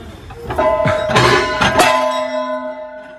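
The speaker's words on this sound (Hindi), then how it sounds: "यहाँ से घंटियां भाई, इतनी बड़ी बड़ी घंटियां।" Large temple bells ringing at Golu Devta temple in Uttarakhand, several loud metallic strikes close together with long ringing tones that hang and fade after the last hit.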